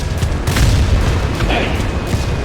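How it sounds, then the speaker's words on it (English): A nearby bomb explosion in War Thunder gives a deep, rumbling boom with sustained low-end roar, layered over continuous game engine noise. "That bomb wasn't, well, I think it was intended for me, but it didn't get anywhere near."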